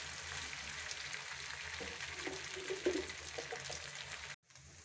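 Potato tikki patties fry in hot oil in a pan with a soft, steady sizzle and a few brief bubbling pops, close by and fairly quiet, before the sound cuts off abruptly near the end.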